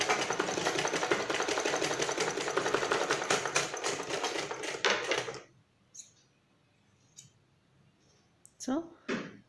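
A sewing machine runs loud and fast for about five seconds, stitching crosswise over a dori cord, then stops, leaving quiet handling noises and a few soft clicks.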